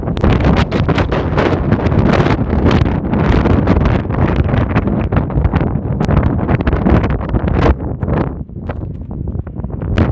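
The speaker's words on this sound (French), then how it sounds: "je ne sais pas si vous m'entendez bien parce qu'il y a beaucoup de vent." Strong wind on a hiking trail in the Aude, on the GR 367, buffets the microphone in loud, continuous gusts with rustling bursts and a brief lull near the end.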